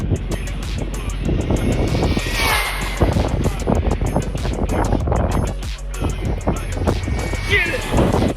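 An HBX 2997A RC car with a brushless motor races fast, its high motor whine surging continuously throughout, loud and close, while someone talks and exclaims over it.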